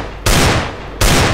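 Two loud, sharp video game gunshots about three quarters of a second apart, each with a booming tail that fades out.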